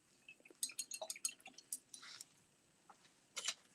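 A paintbrush is rinsed in a small cup of water while painting a scallop shell: faint, close clicks, taps and soft splashes in uneven bursts, with a brief swish near the end.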